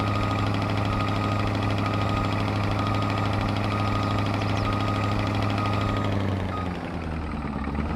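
A truck engine, apparently needing an air filter change, idles close by with a steady low rumble and rattly knock, dipping slightly near the end.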